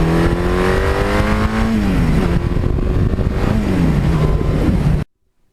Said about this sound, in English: iconic styling, iconic power, iconic sound, and there's a lot of reasons to like this motorcycle